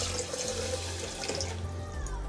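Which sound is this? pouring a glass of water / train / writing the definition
pouring a glass of water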